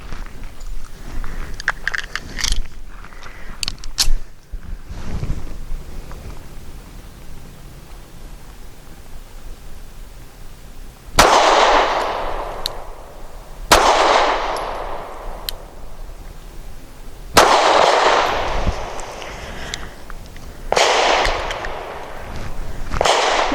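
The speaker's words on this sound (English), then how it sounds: "And next is Norma Hexagon 124 grain. I'll be shooting at circle number 8." A Sig P365 SAS pistol firing Norma Hexagon 124 grain rounds at a target: four loud, sharp shots spaced a few seconds apart, each ringing out briefly in the open.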